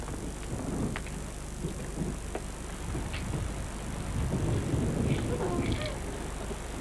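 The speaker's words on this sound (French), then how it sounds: "Ma pluie favorite. Il pleut." Rain falls as a steady, even wash of noise with a few faint patters on top. It stays moderately quiet and constant throughout, with faint voices low underneath.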